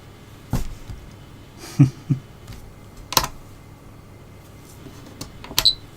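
Buttons pressed on a quadcopter radio transmitter, a handful of sharp, separate plastic clicks spread over several seconds, close and fairly loud against a quiet background.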